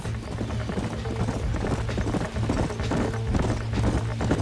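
Horses gallop in the Red Dead Redemption video game, a steady rolling clatter of many hooves close by, continuous and loud with occasional snorts mixed in.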